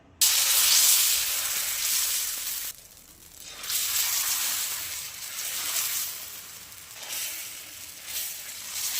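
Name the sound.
sago and barnyard millet dosa batter poured onto hot pan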